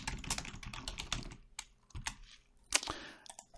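Computer keyboard typing, a run of quick irregular keystrokes that thins into a pause and then a few scattered, sharper clicks, close and fairly quiet with no talking.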